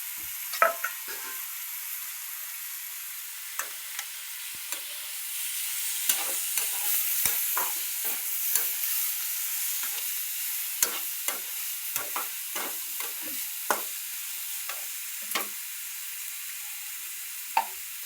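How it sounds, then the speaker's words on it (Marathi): Horse gram simmering and being stirred in a pan, a steady sizzling hiss broken by frequent scraping clicks of the spoon against the pan, close and moderately loud with no voices. "बघा हुलगा शिजलायला टाकलाय बरं का,"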